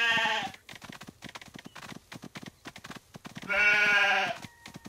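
Sheep bleat loudly in a Paw Patrol herding video game, two long bleats opening and closing the stretch with a run of rapid ticking game sounds between them, no talk.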